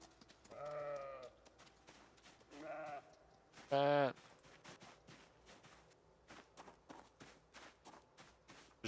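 A goat in the winter farm survival game Project Zomboid gives three loud, wavering bleats spaced a second or two apart. Quieter game sounds such as rhythmic footsteps and soft clicks follow.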